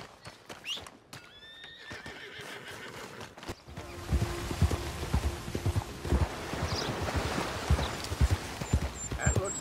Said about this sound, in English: Like a pretty nice horse you got there.